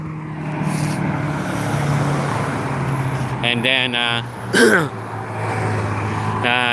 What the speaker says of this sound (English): A noisy car, a rice rocket